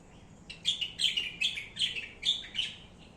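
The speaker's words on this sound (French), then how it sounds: "il y a un oiseau au-dessus de moi qui me déconcentre" A bird calls from overhead outdoors in a series of bright, repeated chirps, about eight short bursts over roughly three seconds, moderately loud and clear against a quiet background with no talking.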